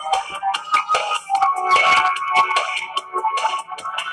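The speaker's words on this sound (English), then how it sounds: "They go off like crazy." Phone notification chimes go off again and again in quick, overlapping bursts, loud and busy with no talking over them.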